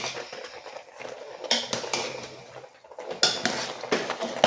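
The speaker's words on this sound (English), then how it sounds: "So while I've done that, I'll give it an awesome stir." A spoon stirs Nigerian okro soup in a pot, making close, irregular scraping clinks and knocks against the metal in uneven bursts, with no voices.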